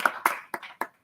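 A handful of sharp, separate hand claps at a Board of Education meeting, four distinct claps spaced unevenly over about a second, close and fairly quiet, then silence.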